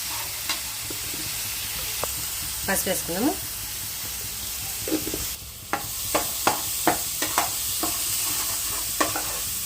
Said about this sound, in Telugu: ఎర్రగడ్డలు అయితే మంచిగా వేగనిద్దాము